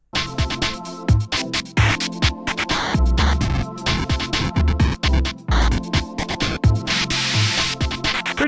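The finished track of a PS1 rhythm game plays every looped sample at once, a dense, loud electronic mix of thumping bass, crunchy noisy textures and steady beats with no pauses.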